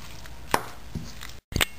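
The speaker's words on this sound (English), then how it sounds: "Now mixing all ingredients together" Chicken kofta mixture of minced chicken, spices, black pepper powder and salt being worked together in a bowl, giving a few soft, close knocks and squelchy thuds spaced apart, with no talking.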